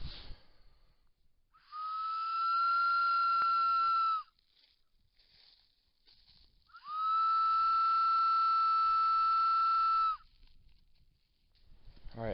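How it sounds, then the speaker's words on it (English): Someone outdoors in the woods near a pipeline in Pennsylvania blows two long, steady whistles of about two and a half and three seconds, separated by a quiet pause, loud and clear against faint wind. "I want to whistle."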